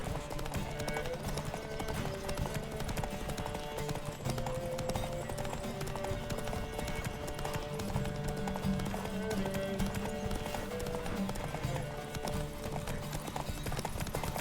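Rapid, rhythmic hoofbeats pound continuously under a dense layer of background music and ambience, as a horse gallops steadily throughout in The Witcher 3: Wild Hunt video game.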